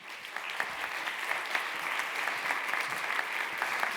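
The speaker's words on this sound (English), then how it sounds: "let's have a big round of applause for Michael Chanover" An audience at a design talk on trust breaks into steady applause for the speaker, a dense even wash of clapping heard at moderate distance with no voices over it.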